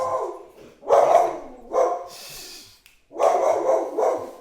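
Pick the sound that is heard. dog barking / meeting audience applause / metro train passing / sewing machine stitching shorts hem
dog barking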